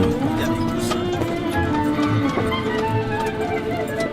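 Hooves clip-clop at a steady trot as a horse-drawn wagon rolls through the Hungarian Puszta, with wheel rumble and a voice talking over the top.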